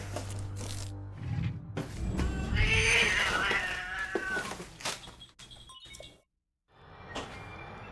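A real cat meows and caterwauls in a drawn-out, strained cry at close range, with rustling and handling noise around it before the sound cuts to silence and resumes faintly.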